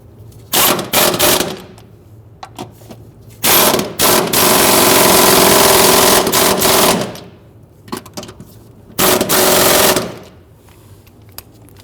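Power tool, likely an impact wrench, tightening transmission mount bolts on a 2011-2015 Kia Sorento 2.4L, loud close bursts: a few short hits, then a long sustained run of several seconds, and one final short burst.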